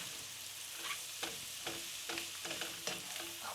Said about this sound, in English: we stir it so they're all mixed in with it